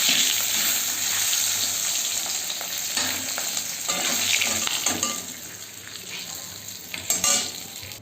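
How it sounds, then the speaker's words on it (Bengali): Fish heads fry in hot oil for a Bengali pui shak dish, giving a steady, close sizzle and crackle with light stirring and occasional utensil scrapes throughout. "আমার তেল গরম হয়ে গেছে, এর মধ্যে আমি মাছের মাথাগুলো ভাজতে বসিয়ে দিয়েছি।"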